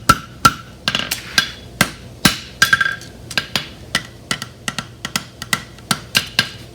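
Sharp hammer blows crimping a deep-seated horseshoe bar shoe just off the anvil edge, a steady series of about twenty ringing metallic strikes at an even rhythm, close and loud with no talk.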